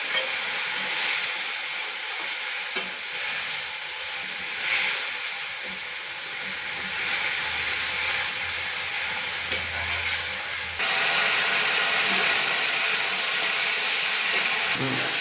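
Spice paste sizzles and spits steadily in a hot pan after a splash of water, with a continuous close frying hiss and intermittent scraping stir strokes, a brief sharp clatter near the end.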